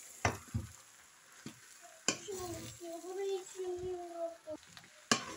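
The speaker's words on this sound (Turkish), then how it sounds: "Ve yine de karıştırıyorum." A spoon stirs a noodle sauce with tahini and broccoli sprouts in a pan, making soft scraping and a few sharp clacks against the metal over a faint sizzle, close and fairly quiet.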